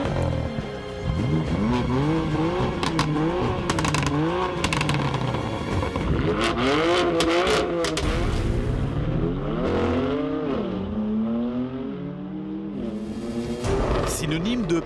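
A BMW M4 GTS 3-litre, 500-horsepower engine revs and accelerates hard, its pitch climbing and falling through gear shifts, loud and continuous with tire noise and a voice talking over it.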